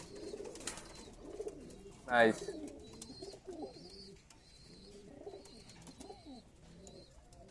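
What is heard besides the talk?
pigeons cooing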